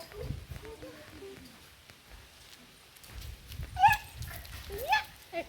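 A dog gives a few short, faint whimpers and yips near household noise, with quiet voices in the background.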